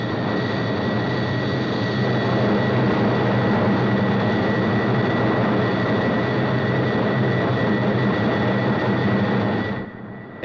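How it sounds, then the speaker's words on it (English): Aircraft flying above its critical Mach number and buffeting violently, heard as a loud, dense, steady roar with a constant engine whine that fills the whole stretch, then drops off abruptly near the end. "soon after M crit is exceeded, the aircraft starts to buffet violently"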